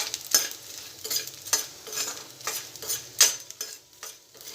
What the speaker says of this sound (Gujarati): હવે આપણે એમાં 1 મોટી ચમચી જેટલો બાજરીનો લોટ એડ કરીશું। એને પણ આપણે આ ઘીમાં શેકી લઈશું।